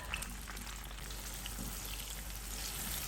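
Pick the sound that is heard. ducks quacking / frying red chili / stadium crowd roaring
frying red chili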